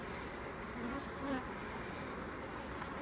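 Honey bees buzz steadily around a hive holding a laying queen and large drones, a dense continuous hum filling the space close by with no talk.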